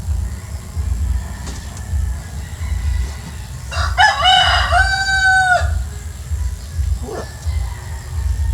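A rooster crows once, loud and close, in a long rising-and-falling call, with faint background noise and occasional farmyard sounds around it.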